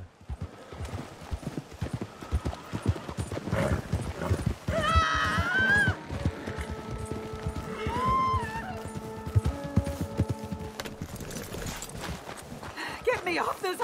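Horse hooves clip-clop steadily in Red Dead Redemption 2 while a horse neighs a couple of times, with people talking and shouting over the scene.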